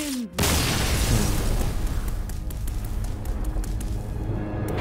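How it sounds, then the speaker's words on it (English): An Arcane Explosion spell in Hearthstone lands as a sudden heavy boom, followed by a dense roaring rumble that fills the rest of the moment at steady loudness. "I think Arcane Explosion that was"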